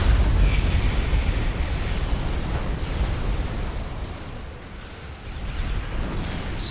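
Tactical missiles exploding in the Supreme Commander Forged Alliance strategy game: a loud, continuous rumbling roar of blasts that sustains throughout, dipping briefly before swelling again.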